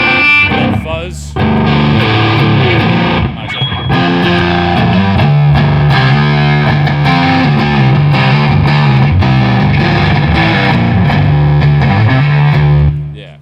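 Electric guitar played through a distortion fuzz pedal, loud and saturated, with sustained fuzzy chords and riffs ringing continuously, briefly pausing early on before driving on steadily to the end.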